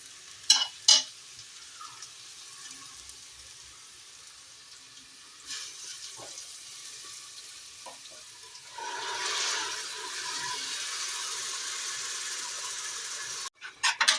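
Onions and a ground masala paste sautéing in oil for a vegetable biryani give a soft, low sizzle with scattered stirring clinks and scrapes, swelling into a steadier frying hiss in the second half.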